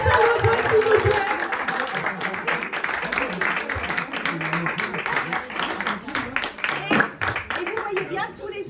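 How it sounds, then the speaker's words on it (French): Birthday celebration audience at the Kafkerin in Brest applauding, dense continuous clapping with voices and chatter mixed throughout, fairly close and steady for several seconds. "à Odile, on peut la remercier avec des applaudissements."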